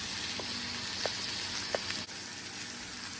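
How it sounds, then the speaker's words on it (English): A steak sears in a pan on the stove, giving a steady, quiet broadband sizzle with a few faint pops and ticks scattered through it and no talking. "we're going to go and let this sear for a minute"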